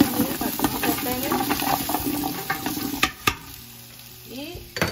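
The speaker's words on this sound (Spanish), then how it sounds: "entonces yo me voy a quedar aquí friendo esto y estarle moviendo, miren, para que no se pegue." Food frying and being stirred in a pan while preparing fish broth, a steady close sizzle with scraping stir strokes that fade out toward the end.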